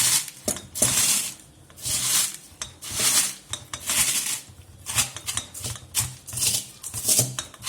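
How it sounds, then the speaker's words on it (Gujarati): Edible gum (gund) is crushed into small bits for gund pak, heard as close, repeated rasping, crunching strokes in an uneven rhythm, loud and alone with no voices. "ગુંદનો આપણે આ રીતે આનાથી થોડોક ભૂકો કરી લેશું"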